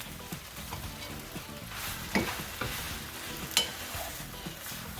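Fried cabbage with sausages and ham stirred in a pan, close scraping and tossing strokes over a steady sizzle, with a couple of sharper knocks of the utensil against the pan.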